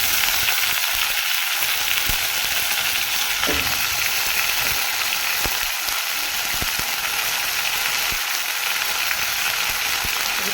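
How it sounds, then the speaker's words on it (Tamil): Chicken pieces frying in a pan for a Tamil chicken curry give a steady, loud, close sizzle with occasional light clinks and scrapes, and no one speaks. "சிக்கன் சேர்த்துக்கலாம்"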